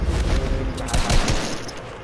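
Rapid drum gun fire in the game Fortnite, a dense burst of repeated shots with impacts, loud and continuous for the full stretch with no talk.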